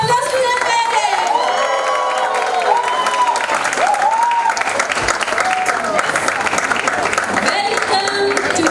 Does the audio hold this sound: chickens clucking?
no